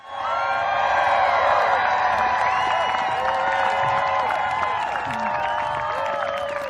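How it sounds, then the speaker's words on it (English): An audience at a Trans Day of Visibility rally claps and cheers, a sustained wash of applause with whoops and shouts from a crowd, loud and steady throughout. "Give yourself a round of applause for being here."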